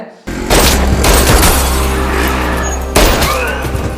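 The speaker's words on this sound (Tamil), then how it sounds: "துப்பாக்கி வச்ச ஒருத்தர் 3 பேர் சுட்டு கொண்டிருக்கான்." Gunfire from a Tamil film scene in which a gunman shoots at three people: loud, dense bursts of shots and booms, with a fresh volley near the end.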